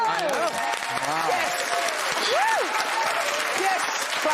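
Studio audience clapping on a TV chat show, a broad wash of applause running throughout while several voices talk and exclaim over it.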